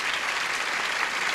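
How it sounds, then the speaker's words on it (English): A game show studio audience breaks into loud, dense applause that holds steady for the entire short burst. "Applause, applause, applause."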